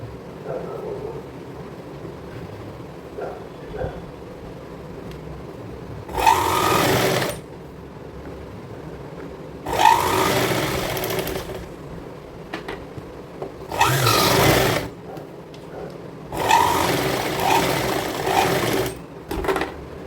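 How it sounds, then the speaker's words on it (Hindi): Sewing machine stitching the crotch seam of a child's cordset, four bursts of running stitches separated by quiet pauses, close and steady against a low room hum. "यहाँ पर हम सबसे पहले इसकी दोनों पैर की क्रॉच लेंथ को इस तरह से सिल लेंगे"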